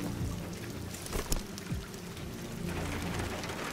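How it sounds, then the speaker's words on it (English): Steady rain falling in a city street in Detroit: Become Human, a broad constant hiss with scattered drop impacts and a few brief louder splashes, heard alone without voices. "She was just stood out in the rain."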